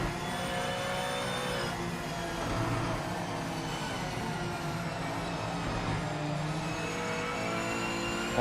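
Porsche GT3 race car engine in Project Motor Racing, a sustained close-up high-revving drone with shifting pitch and whine and no breaks, steady and loud throughout.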